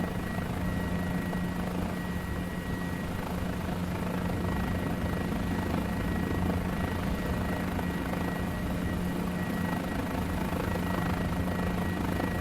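A Guimbal G2 helicopter in Microsoft Flight Simulator 2020 takes off, its steady rotor thump and engine whine loud and constant throughout, with no voices over it.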